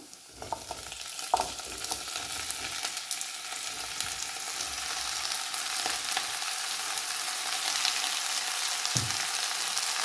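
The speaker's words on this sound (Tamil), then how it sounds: "இப்போ நான் அந்த வெட்டி வச்சிருக்கிற நீட்டு பூசணிக்காய் துண்டுகளை சேர்த்து கொள்ள போகிறோம்" White pumpkin pieces tumble into a hot frying pan with onions already softened, setting off a steady close sizzle with scraping stir sounds that grows denser and louder toward the end.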